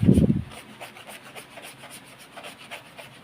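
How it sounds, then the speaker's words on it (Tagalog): Sandpaper rubbing back and forth around a hole to clean off dirt, a brief louder scrape at the start and then a steady, quiet rasping with regular strokes. "Kung saan yung butas niya, doon nyo siya lilihain, linisan nyo lang."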